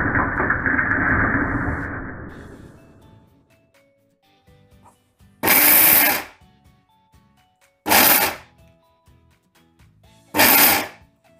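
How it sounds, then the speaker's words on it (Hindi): A kitchen grinder pulses cashews into powder for kaju barfi, giving three short, loud whirring bursts separated by pauses of a couple of seconds, after an earlier rushing noise fades out. "काजू जिते बेले भी अपन ग्राइंड करेंगे 15 सेकंड"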